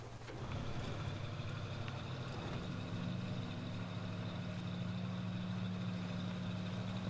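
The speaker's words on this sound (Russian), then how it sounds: "Хоть у него и типа 8 передач, да, самый мощный движок." Heavy truck engine in the SnowRunner driving game, a powerful eight-speed rig, holds a steady low drone and hum at moderate level throughout, with no talk over it.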